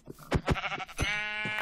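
A Minecraft sheep bleats twice in quick succession, loud and close, with a few short game sounds between the cries and a longer sustained tone toward the end.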